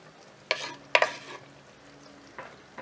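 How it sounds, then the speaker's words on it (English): Traditional Kienyeji greens cooking in a pot: a few sharp stirring scrapes and clatters over a soft steady sizzle, close by, with a last knock near the end and no speech. "I'm going to let this cook down for like 10 minutes or so."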